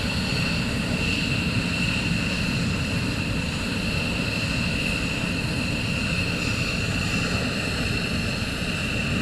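Military aircraft engines running at RAF Lakenheath during a morning launch, a loud unbroken roar and whine holding steady throughout.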